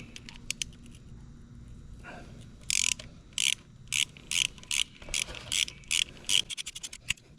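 A ratchet clicks in quick bursts while loosening the 12 mm oil drain bolt on a Kawasaki KX450F dirt bike, close and crisp, about a dozen ratcheting strokes after a quiet start.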